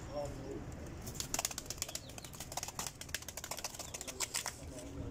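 Wings of a pigeon flapping and clattering in repeated quick bursts, fairly close, over a low background hum with faint voices.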